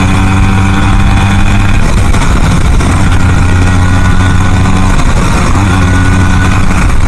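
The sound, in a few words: car engine exhaust note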